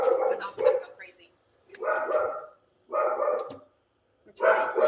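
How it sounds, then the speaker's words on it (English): A dog barks in several separate loud, close bursts with short pauses between them, in a home kitchen where chili is being cooked. "My dog's gonna go crazy."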